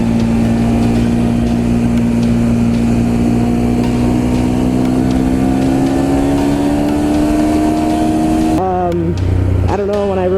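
A Ducati Monster 1200S motorcycle engine pulls hard while being ridden with a quickshifter. Its loud, steady drone climbs in pitch, then breaks into quick stepped shifts near the end, with wind rushing throughout.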